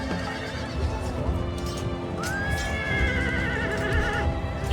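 In a 1776 battle simulation game, horses whinny over a busy backdrop of hooves clip-clopping and rumbling movement as cavalry charges, with one long rising neigh standing out clearly.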